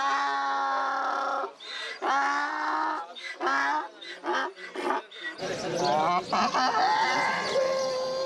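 A donkey at a Tunisian Bedouin livestock market brays in a series of loud, harsh, strained cries with gaps between them, close by, ending in a longer rasping call.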